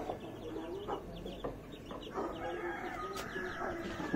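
A hen clucks in a village yard among other fowl, short repeated clucks and calls against steady outdoor background noise.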